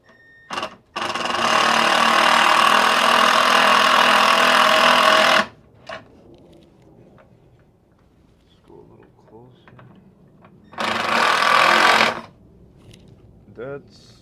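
A Milwaukee cordless shop drill driving a screw during a BMW bumper repair, with a sustained whirring burst of about four seconds, then a shorter second burst, close and loud, separated by quieter shop noise.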